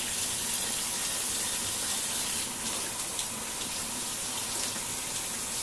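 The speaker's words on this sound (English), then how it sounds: "rinse your cabbage," A kitchen tap runs steadily while cabbage is rinsed beneath it, giving a continuous, fairly loud splashing hiss of water with no pause and no voices.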